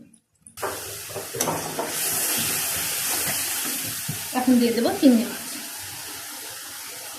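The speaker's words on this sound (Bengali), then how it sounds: "দিয়ে এখন পানি দেব।" Water pours into a hot pot of turmeric- and salt-seasoned gourd leaves and shrimp, setting off a loud, steady sizzle and hiss, with a voice speaking briefly over the cooking.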